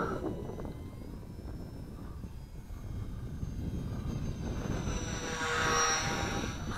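Small XK DHC-2 A600 RC model airplane flying downwind, a faint thin electric motor whine over steady wind buffeting, swelling slightly as it passes closer, with no talking.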